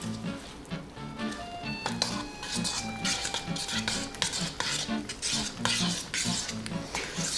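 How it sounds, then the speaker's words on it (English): A spoon scrapes and clinks against a bowl while stirring enchilada filling, a busy, continuous rhythm of close metallic taps and wet mixing. "We're just going to mix it all together here"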